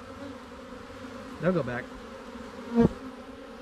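Bees hum steadily around an opened beehive outdoors, a continuous buzzing drone that keeps going under two short bursts of nearby speech.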